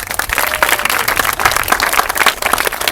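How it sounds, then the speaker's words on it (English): A crowd at a Renaissance festival show claps steadily, dense applause filling the whole stretch at a fairly loud, even level with no voices standing out. "nice round of applause for Steve"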